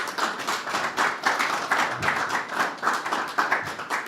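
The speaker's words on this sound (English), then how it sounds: "Keep clapping, make it welcoming, welcoming." An audience at an art exhibition and book launch claps steadily for several seconds, a dense run of hand claps with brief swells, no one speaking over it.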